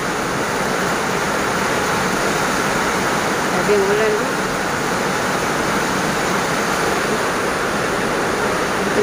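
A steady, loud roar of strong wind and heavy rain in Dubai runs throughout, with a brief voice speaking over it.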